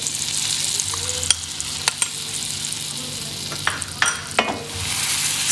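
Flour roasts in butter over low heat for a gravy, a soft continuous sizzle broken by several sharp scraping stirs of a spoon against the pan, with no talking.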